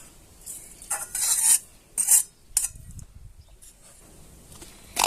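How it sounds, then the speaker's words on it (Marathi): A spoon stirs grated coconut into a wheat flour and rava ladoo mixture in a metal pan, with scraping, clinking strokes in short irregular bursts close by against quiet background hiss. "खोबरं ते याच्यात मिक्स करून घ्यायचं"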